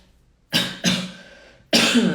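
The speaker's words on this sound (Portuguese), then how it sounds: "A minha tosse do Covid." Three harsh coughs from a person with Covid, close to the microphone, the first two quick together, then a brief pause before a third.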